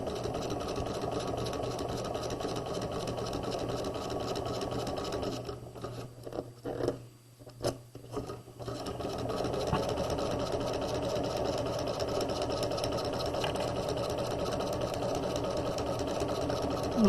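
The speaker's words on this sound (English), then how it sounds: "We're going to stitch along the folded edge, making sure that we get the raw edges enclosed in our seam." A sewing machine stitches along the folded edge of a pocket for a quarter zip jacket, whirring continuously up close, pausing briefly around the middle with a few clicks and handling sounds before resuming its steady hum.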